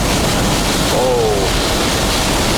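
Strong wind roars in a night windstorm outdoors, a dense, steady rush battering the microphone throughout. A faint, brief vocal sound slips through near the middle.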